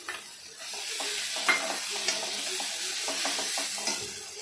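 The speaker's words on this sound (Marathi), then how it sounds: "ते वाटण टाकते" Ground paste of roasted onion, coconut, ginger and garlic with coriander hits a hot pan and sizzles steadily, with scraping stirs and small clatters throughout, no voices.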